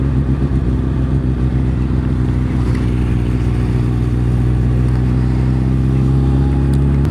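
A motorcycle engine runs steadily close by, a loud continuous throbbing idle with a low rumbling pulse and little change in pitch, heard alone without talk.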